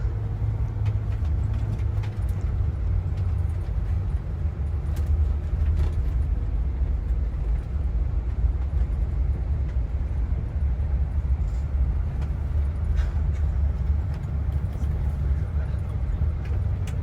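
A bus engine drones steadily as it climbs mountain switchbacks near Grindelwald, heard from inside as a constant low rumble with road noise throughout and no pauses.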